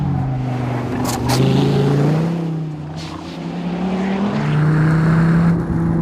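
An SRT Viper GTS driven hard on a race track, braking into the Corkscrew, its engine note loud and close, dropping and rising in pitch through downshifts and acceleration, with no talking.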